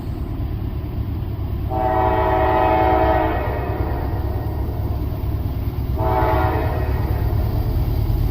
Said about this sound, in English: This westbound intermodal Amtrak 30's coming from the other side.